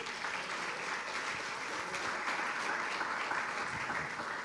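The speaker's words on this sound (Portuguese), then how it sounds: "Aplauda o Senhor" A church congregation claps steadily in praise of the Lord, a continuous moderately loud wash of hands heard from within the room.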